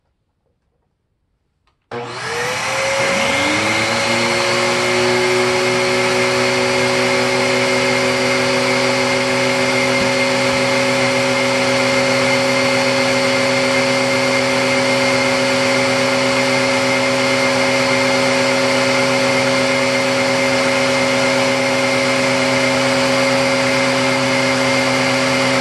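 A Bissell Heavy Duty 50C9 vacuum, brush roll on and HEPA filter out, switches on after a brief silence and holds a loud, steady, close whining roar with a constant motor drone to the end.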